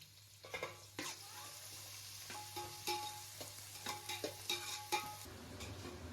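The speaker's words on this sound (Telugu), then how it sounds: "ఉల్లిపాయలు అలాగే పచ్చిమిరపకాయలు బాగా ఫ్రై అయిపోయాయి" Sliced onions and split green chillies fry in oil in an aluminium pot, a soft, even sizzle broken by repeated light clinks and scrapes of stirring over a low steady hum.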